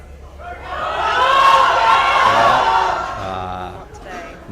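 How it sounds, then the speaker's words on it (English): A crowd cheers a weightlifter's 107.5 kg lift attempt at a powerlifting meet, a roar swelling to a loud peak and then fading, with shouts and whoops throughout. "Crowd's getting behind him."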